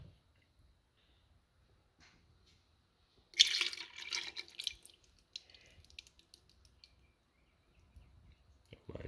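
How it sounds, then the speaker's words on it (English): Thick corn syrup pours into a pot while making hard caramel toffee, a faint wet trickle that swells briefly in the middle and then fades into soft, sparse drips against near silence. "Just pouring some more of that corn syrup out."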